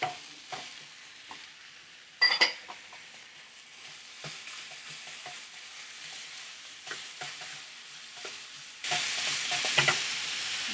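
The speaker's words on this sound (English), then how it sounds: "I'm going to cook this pound of ground pork until it's cooked" Ground pork, a full pound, frying and being stirred in a pan with a soft steady sizzle, punctuated by scraping clicks of the utensil and a louder burst of frying near the end, with no voices.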